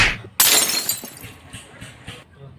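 A glass liquor bottle shatters with a sudden loud crash, followed by a scatter of tinkling fragments and a few smaller knocks that fade out over the next couple of seconds.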